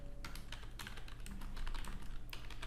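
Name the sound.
typing on a computer keyboard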